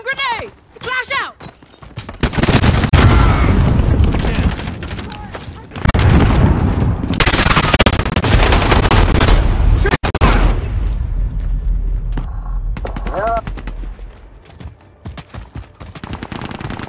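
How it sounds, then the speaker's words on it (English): Call of Duty Modern Warfare online match with heavy gunfire, rattling bursts and booming blasts including a flashbang, loud and dense, with in-game voices calling out over the combat. "Throwing grenade! Flash out!"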